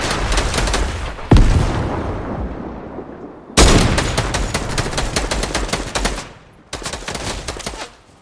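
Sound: gunfire in a video game

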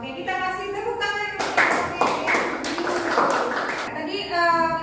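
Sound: class clapping hands

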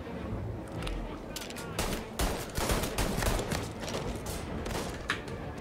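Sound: rifle gunfire in the video game Mafia Definitive Edition

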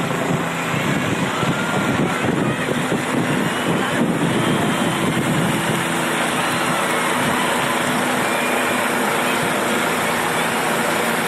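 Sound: helicopter flying over, showering flowers on a Shiva statue

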